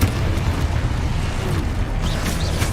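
Fire spell explosion in the Hogwarts Legacy video game, a dense, loud, continuous rumbling blast with crackling debris and no pauses.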